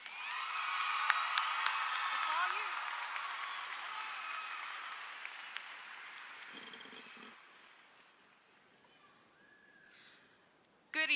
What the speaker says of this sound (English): please join me in applauding this year's salutatorian, Julia Plant.